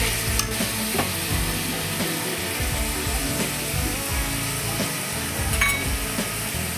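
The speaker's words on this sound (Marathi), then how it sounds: "तेल सुटेपर्यंत चांगलं तळायचं." Potato curry gravy fries in oil in a pan, giving a steady, dense sizzle with stirring scrapes throughout, close and fairly loud, with no voices.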